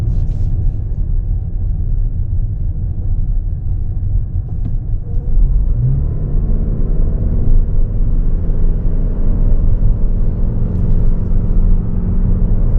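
A 2024 Toyota Venza LE cruising down the road, a steady low engine rumble and road noise from inside the cabin, continuous and even throughout.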